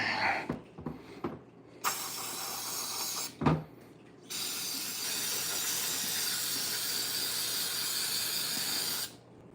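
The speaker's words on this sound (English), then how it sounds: "I got some carb cleaner here. We're gonna let it rip a little bit." Carb cleaner sprayed from an aerosol can during carburetor tuning: short hissing bursts at first, then one long continuous loud spray that stops abruptly.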